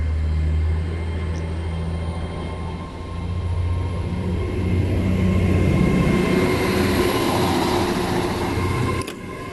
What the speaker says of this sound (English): departing now is the 1002 Avanti West Coast Class 805 of aero service to London Euston.